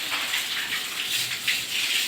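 Water pours and gushes steadily onto household stairs being washed, a close, continuous splashing rush that lasts only a couple of seconds.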